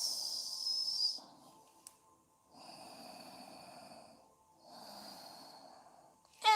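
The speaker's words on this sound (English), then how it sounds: "Take long, deep breaths." Slow, deep breathing during a yoga session: long airy inhales and exhales with soft hiss, separated by quiet pauses, close and gentle.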